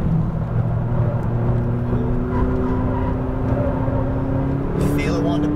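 A McLaren 570S on a race track, its engine a steady, loud drone with a slowly rising pitch as it pulls, heard from inside the car with a voice talking over it.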